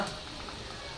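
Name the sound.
potato puri frying in oil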